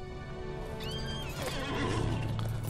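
A horse neighs in the Lord of the Rings Online video game, one clear whinny over steady background game sound and faint hoof clip-clops, no talking.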